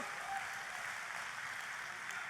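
A church congregation gives sustained applause during a sermon, a fairly faint, continuous wash of clapping heard at a distance with no voices over it.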